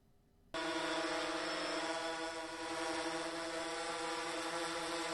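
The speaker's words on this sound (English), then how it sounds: "Another drone." A drone hums steadily overhead, its motor whine starting abruptly and holding a constant, fairly loud buzzing drone with no talk.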